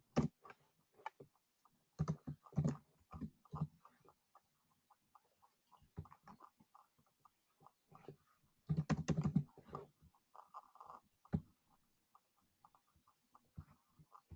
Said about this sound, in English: what you want to do in the interest section is type in big name marketers like Tony Robbins